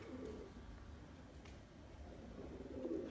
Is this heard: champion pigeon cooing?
yes